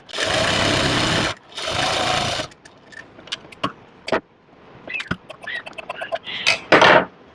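A sewing machine runs in two sustained bursts as it stitches a fabric strip onto a baby dress, followed by scattered clicks and fabric handling.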